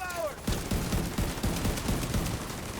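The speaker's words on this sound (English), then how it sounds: "Yeah, the grenade launcher can't get multiples at once." Rapid repeated blasts from a grenade launcher in a video game, a loud, steady series of heavy thumping shots over constant dense game noise, preceded by a brief rising whine.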